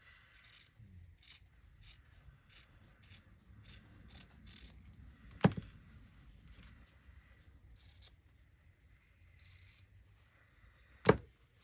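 Scissors trim the pinked edge of a paper page in a series of short, quiet, evenly spaced snips, broken by two sharper, louder clicks partway through and near the end.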